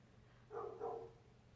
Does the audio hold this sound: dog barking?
yes